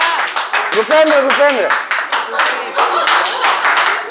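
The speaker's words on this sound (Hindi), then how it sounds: "अबे ताली बजा करो, ताली बजा।" Students in a classroom clap together in a dense burst of applause during a weekly test results session, steady and loud throughout, while someone speaks over it.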